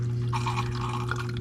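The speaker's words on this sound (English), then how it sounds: "there's water flowing out of both of them" Water trickles and drips steadily from the tubes of a DIY home hydroponics system, a continuous close splashing flow over a low steady hum of a pump.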